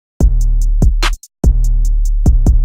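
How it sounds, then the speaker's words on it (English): A punchy snare layered on a clap hits on the backbeat above a deep, pounding kick loop from an instrumental remake, broken by a brief pause. "There's also this snare that is layered on top of it."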